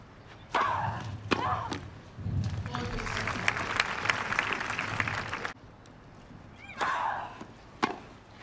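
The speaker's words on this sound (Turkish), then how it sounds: "Büyük alkış alıyor Mert." Crowd applause at a women's tennis match in Istanbul, a few ball strikes followed by a burst of clapping from the stands lasting several seconds, with more racket hits afterward.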